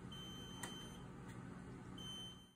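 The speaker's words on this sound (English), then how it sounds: "This alarm means that this isn't seated properly." A machine's electronic alarm signals that a part is not seated properly: a faint, steady high-pitched tone sounds twice, one long beep and then a shorter one after a gap, over a low background hum.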